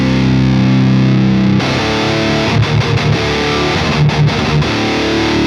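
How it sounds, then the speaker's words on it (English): An electric guitar runs through a Marshall amp simulation plugin from the Ampknob bundle, giving heavily distorted, gain-saturated tone. It opens with a sustained chord, then moves into choppier strummed chords with brief gaps, loud and close with no voices. "Not a volume increase, but a gain or a distortion"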